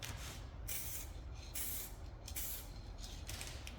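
Spray gun or aerosol laying a light coat of paint on a Volkswagen GTI, a steady continuous hiss with brief pauses between passes, close and fairly loud throughout.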